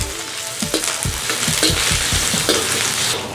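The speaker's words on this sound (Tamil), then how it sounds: "அடுத்தது வந்து வெங்காயம் ஒரு 3 பம்பா வெங்காயம் அளவில் போடுறேன். இப்படி ஒருக்கா வதக்கி விடுவோம்." Onions, about three bombay onions' worth, sauté in hot oil with cinnamon, giving a loud continuous sizzle punctuated by repeated stirring scrapes and thumps of a spoon against the pan, with no talking.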